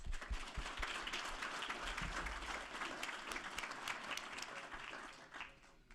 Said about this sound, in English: maybe just a quick round of applause for them for the work that they're doing for us